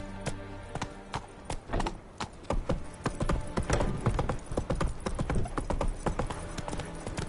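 Hoofbeats of Geralt's horse Roach in The Witcher 3, a steady run of clip-clop steps with a strong repeating rhythm, loud and close, with no voices over them.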